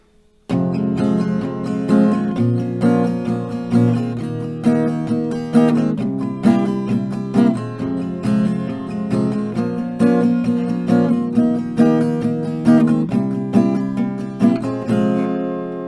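Chords strummed on an acoustic guitar in a steady rhythm, two strokes per chord, ringing clearly and alone.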